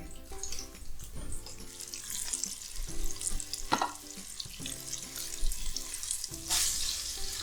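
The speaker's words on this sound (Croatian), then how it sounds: "drugu turu mesa na prženje" Chicken pieces fry in a Cook4me multicooker with a continuous, dense sizzle and crackle, close and steady, over faint tonal background music.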